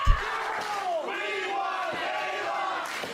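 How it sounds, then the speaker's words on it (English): Wrestling crowd at a women's match chanting in unison, a loud rhythmic roar of many voices filling the arena, with a thump at the start. "And the crowd chanting, "We want Kayla,""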